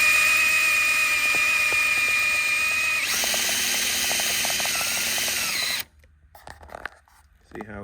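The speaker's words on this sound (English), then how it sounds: "I used my Milwaukee drill to spin my bobbins now" A Milwaukee power drill spins a sewing bobbin with a steady high whine that shifts pitch and runs close and loud, then cuts off, leaving quiet handling clicks.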